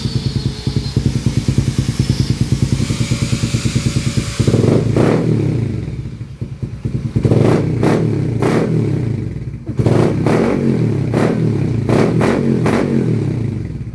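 A scooter with an aftermarket 51mm exhaust pipe idles with a steady, throaty exhaust rumble, then is revved repeatedly in short bursts that rise and fall, loud and close.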